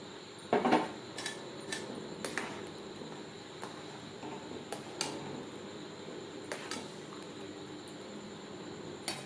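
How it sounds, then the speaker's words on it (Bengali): A spoon stirs hot milk in a pot as it curdles into chhana for monda sweets, making intermittent metallic clinks and scrapes over a quiet, faintly bubbling background. "গরম দুধে মিক্সড করতে থাকবো এভাবে নাড়তে থাকবো যতক্ষণ না পর্যন্ত দুধ থেকে ছানা পুরোপুরি আলাদা হয়ে যায়"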